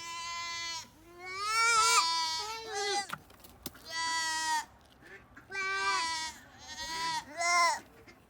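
Several dwarf goats bleat loudly and insistently nearby, long wavering cries in repeated bursts with brief pauses between.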